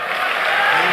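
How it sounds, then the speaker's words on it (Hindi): An audience in a celebration hall applauds to welcome a performer onto the stage, a dense, steady wash of crowd clapping and cheering that stays loud and even throughout. "तालियां तो जोर नाल बजाओ"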